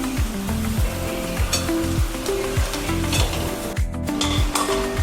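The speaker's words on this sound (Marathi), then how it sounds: "आता आपल्याला बटाटे टाकून घ्यायचे त्याच्यामध्ये।" Potatoes tossed into a hot pan with turmeric and red chilli powder, sizzling and frying loudly throughout while a spoon stirs them with rhythmic scraping strokes, close up and with no talking.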